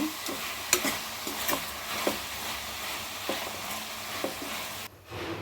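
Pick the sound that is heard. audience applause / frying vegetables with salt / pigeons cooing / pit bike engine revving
frying vegetables with salt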